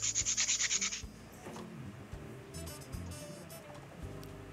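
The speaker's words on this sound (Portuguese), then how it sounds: "Aí você vai pegar esta madeira, vai pegar a lixa" Wood sanded by hand with coarse 80-grit sandpaper, a quick run of rhythmic rasping strokes up close, then quieter scattered rubbing and handling noises.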